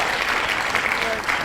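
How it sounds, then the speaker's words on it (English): Dense, steady applause from a crowd, a continuous wash of clapping hands that holds at an even level throughout. "I'm giving them a round of applause again."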